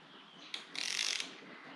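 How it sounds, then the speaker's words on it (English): Ratchet clicking during timing-belt work on a Toyota 1UZ-FE V8 engine: a short burst of rapid, close mechanical clicks rising briefly above a quiet workshop background, with no talk. "I didn't want a ratchet"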